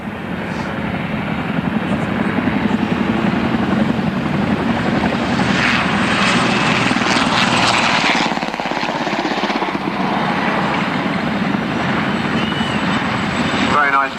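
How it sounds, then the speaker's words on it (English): A Chinook helicopter passes at an aviation show. Its heavy rotor blades make a loud, continuous throbbing roar that swells and holds, while an announcer talks over it. "quite an impression from the heavy rotor blades of this magnificent helicopter"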